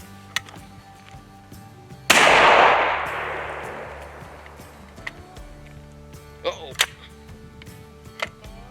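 A single loud, close blast from a century-old single-shot shotgun, followed by a long decaying rumble outdoors. Fainter clicks and clacks of the action opening and ejecting come afterward.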